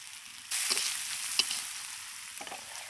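Ground coriander, dried chilli, cumin and turmeric with salt fry lightly in oil, a soft sizzle that swells suddenly after a quiet start, with a couple of faint clinks of a spoon, close and alone.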